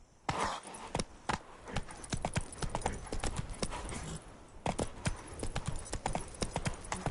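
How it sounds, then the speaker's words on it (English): A horse gallops in the video game The Witcher 3: Blood and Wine, its hooves beating a fast, even rhythm of close, loud clip-clops that continues throughout. "Run, Roach."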